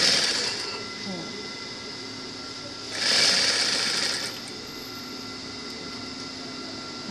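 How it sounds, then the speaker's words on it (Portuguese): A sewing machine stitches an inner seam on a costume piece, running steadily throughout with a brief louder burst midway, close and moderately loud, with faint speech in the background. "eu vou costurar por dentro pra ficar embutido"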